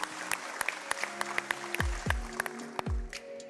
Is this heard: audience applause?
yes